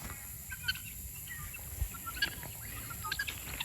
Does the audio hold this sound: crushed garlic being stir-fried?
no